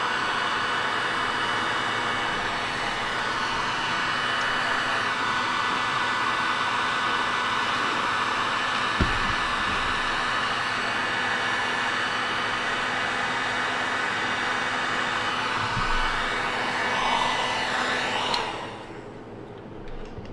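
A hair dryer blows steadily and loudly for about eighteen seconds, a broad constant whoosh, then cuts off near the end, with a couple of faint knocks during the run.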